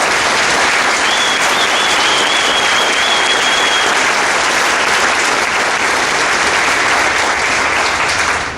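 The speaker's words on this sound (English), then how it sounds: "give these guys a round of applause" A large crowd claps loudly and continuously, a dense sustained wall of applause with a faint whistle early on.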